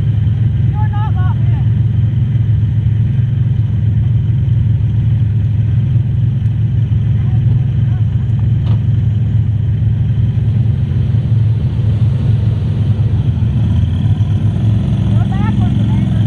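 A vehicle engine rumbles steadily and low through a backyard mud bog, a constant droning under people's voices, without clear revving peaks.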